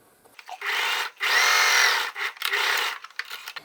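Sewing machine stitching fabric for a scrunchie, running in three steady whirring bursts separated by brief pauses, close and fairly loud with no talking.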